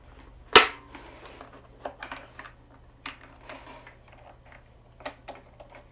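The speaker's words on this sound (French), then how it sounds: "le clic qu'on entend. C'est le micro switch." Micro switch being pressed, a single sharp, close click followed by a scatter of faint, small ticks and taps in a quiet room.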